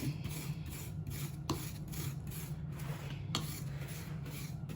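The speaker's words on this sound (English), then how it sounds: "I'm using a big fork, and you scrape at it." A big fork scrapes frozen cherry granita in a pan, giving a close, steady rasping sound in quick repeated strokes with a few sharper scratches.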